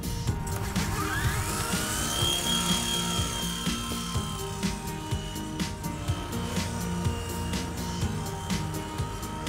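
A Blade 120 S2 RC trainer helicopter flies with a steady, high-pitched whine from its small rotors and motor, loud and continuous, with the pitch rising and falling slightly as it manoeuvres.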